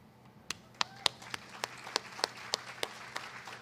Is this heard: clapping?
yes